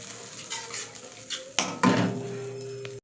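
Spices are stirred in a cooking pot for a vegetarian potato curry (aloo dum). A spoon scrapes and clinks against the metal, followed by a couple of louder knocks close up.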